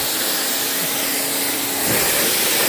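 A steady, broad hiss of Spray 9 cleaning spray runs throughout, loud and close, with a brief swell near the end.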